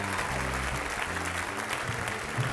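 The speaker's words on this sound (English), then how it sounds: "Give him a big round of applause right here." A theatre audience claps for a man named Rich brought up on stage at a comedy show, a brief, dense burst of applause heard alone at moderate distance.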